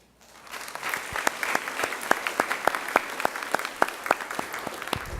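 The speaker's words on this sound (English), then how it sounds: "So they all deserve a round of applause." Audience applause at a school board meeting, a steady wash of clapping from a room of people with sharp individual claps standing out, starting from near silence and holding at moderate loudness throughout.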